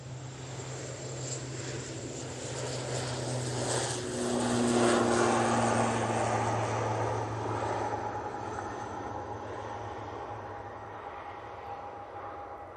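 An airliner at Manchester Airport rumbles steadily, a broad continuous roar that swells toward the middle and slowly eases, with a faint whining tone running beneath it and no voices.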